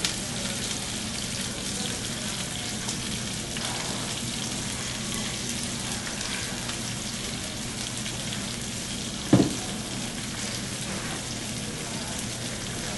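Fennel sizzles steadily in a hot frying pan, a continuous even crackle close by, with a brief knock partway through and no talking.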